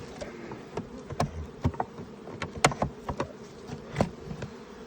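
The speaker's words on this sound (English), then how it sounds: "there are some bees." Honeybees buzz around an opened hive box during a split, with a steady close hum broken by frequent brief loud passes as individual bees fly right by, over a soft rustling background.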